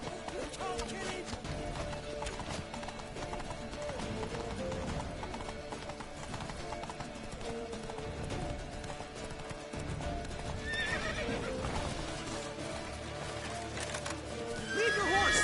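A horse gallops with rapid hoof clip-clops and lets out whinnies in The Witcher video game, a steady driving rhythm under game music and shouted voices, with a neigh rising near the end.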